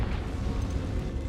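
A Confringo spell explodes in Hogwarts Legacy, a dense, loud rumbling blast that fills the whole short moment without any break.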